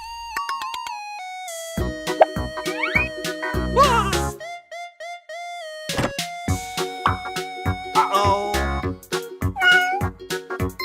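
A cartoon cat meows a few times within a bouncy children's alphabet song, the short meows mixed into plucky music with brief pauses.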